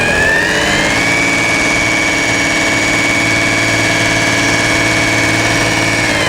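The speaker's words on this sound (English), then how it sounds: "You can hear the volume of the motor" A variable speed pump motor on a fuel dispenser at a petroleum equipment trade show in Atlanta runs with a loud, steady, unbroken hum and drone throughout.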